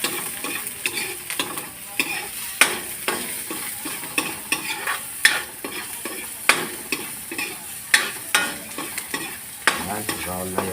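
Ginger, garlic and onion frying in a pan, a steady close sizzle broken by repeated scraping stirs of a utensil every second or so, with no talk.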